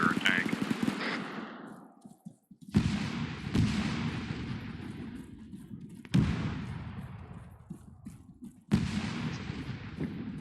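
Heavy cannon fire and gunfire in a military video game, with several loud booming blasts at intervals, each trailing into rolling echoes, and bursts of rapid shooting between them; voices murmur faintly underneath.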